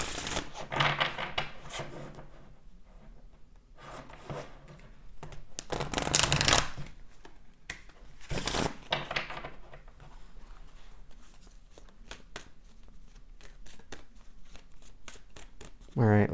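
Oracle cards from the Keepers of the Light deck are shuffled close by in repeated soft riffling bursts and flicks, with a few louder snaps, continuing through the whole stretch.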